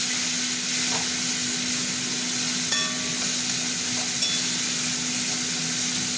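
Onion and tomato fry together in a pan for a pointed gourd and prawn curry, a steady close sizzle with a few faint clinks of a stirring utensil.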